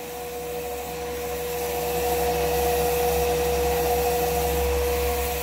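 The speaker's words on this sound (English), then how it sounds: "You see we've got full pressure still, the turbine is still spinning." A small turbine spins with a steady whine and a sustained tonal hum under broadband whooshing, slowly building in loudness and then holding level, with no talk.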